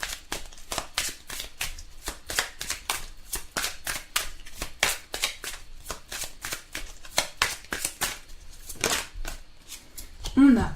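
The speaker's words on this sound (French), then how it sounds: "on va prendre ceci et on va tirer quelques cartes" A deck of tarot cards is shuffled and cards are drawn: rapid, evenly spaced riffling flicks repeat close to the microphone for several seconds, with speech alongside.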